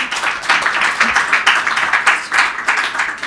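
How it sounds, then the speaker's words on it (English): An audience at a COP 25 conference session on mountain glaciers and snow claps steadily, a dense, even patter of many hands lasting a few seconds at close range. "I guess we can give them all a great round of applause."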